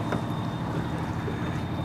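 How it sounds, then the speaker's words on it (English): A boat motor runs steadily close by, with a constant hum under wind noise and a faint high whine, no speech present. "now we got the boat going"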